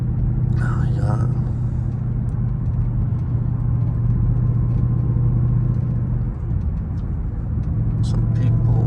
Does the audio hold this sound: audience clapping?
no